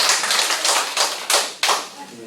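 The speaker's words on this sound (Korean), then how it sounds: "박수 한번 쳐주시죠." Rhythmic hand claps from a lecture audience, about half a dozen sharp broadband bursts spaced roughly a third of a second apart, moderately loud and close, fading in the final beat.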